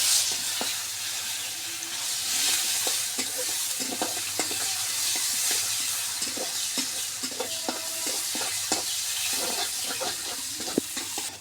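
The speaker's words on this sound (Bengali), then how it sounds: "মাছ ভাজার তেলে আমরা তেজপাতা দিলাম, দালচিনি," Chopped onion, bay leaf and cinnamon sizzle and fry in leftover fish-frying oil, a steady close hiss with scattered stirring clinks and scrapes, no talking.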